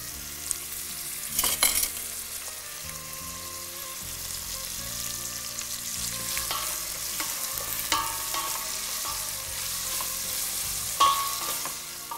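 Large onions frying and being stirred in a pan with salt on a Tamil cooking show, a steady broadband sizzle with scraping stirs and occasional louder clatters of the spoon, close and continuous with no talking.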